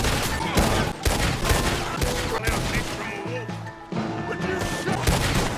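Gunfight in the video game Red Dead Redemption 2: rapid bursts of overlapping shots and sharp cracks, loud and close, with characters' voices shouting between volleys.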